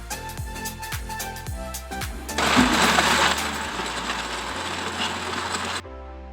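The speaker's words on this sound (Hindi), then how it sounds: "दूध ऐड करने के बाद इसको हम अच्छी तरह से ग्राइंड कर लेंगे।" A blender grinds Oreo cookies with milk for a milkshake, starting with a few short mechanical pulses before settling into a loud, steady whirring run that cuts off abruptly near the end.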